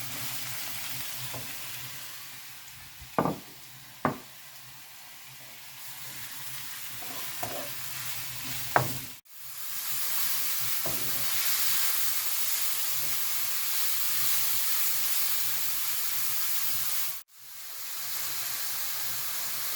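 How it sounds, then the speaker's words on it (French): Mushrooms fry in hot oil for a quiche, a steady broadband sizzle with a few sharp stirring clicks and scrapes early on, briefly cut off twice, no talk. "On met les champignons, l'huile est chaude. Et on les fait revenir."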